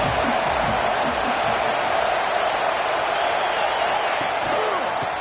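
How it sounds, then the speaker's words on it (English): A huge college football stadium crowd in Happy Valley roars on third down, a dense, continuous wall of noise at steady high loudness filling the whole stretch without a break. "Here comes the noise from this big crowd in Happy Valley on 3rd down"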